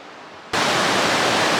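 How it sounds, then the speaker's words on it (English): Kennedy Creek, a creek crossing on the Pacific Crest Trail, rushes as a loud, steady broadband wash of flowing water that cuts in abruptly after a brief quiet moment and continues without a break. "This is Kennedy Creek."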